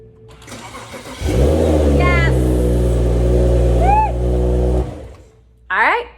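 An E92 BMW with a freshly repaired starter cranks and catches, its engine running loudly and steadily for several seconds before stopping; a brief second start burst follows, with excited voices in between.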